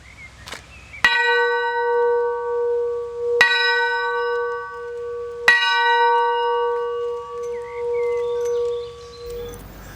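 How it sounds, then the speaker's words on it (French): New church bells in a chapel, cast at Königshofen, ring out in three loud, clear strikes a couple of seconds apart, each leaving a long, humming resonance that sustains between the blows. "Il ne manquait plus que d'entendre à nouveau résonner les cloches"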